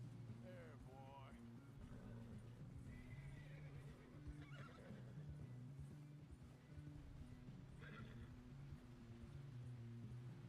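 A horse in the Red Dead Redemption video game whinnies and neighs a few times over a steady low ambient hum, with hoof clip-clop and game dialogue running throughout.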